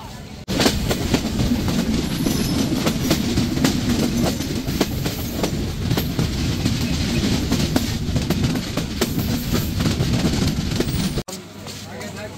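The Sundarban Express passenger train runs on rails near Chuadanga and Darshana, heard as a continuous loud rumble with rapid clattering wheel clicks that shift abruptly to a quieter tone near the end.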